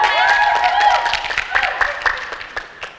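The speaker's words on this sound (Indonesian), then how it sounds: "Kita tepuk tangan dulu" A group in an auditorium breaks into applause, with clapping mixed with cheering and shouted voices, loud at first and thinning out toward the end.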